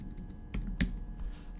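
Someone types on a computer keyboard in short, quiet bursts, with a few distinct clicks and taps spaced irregularly over a second or two.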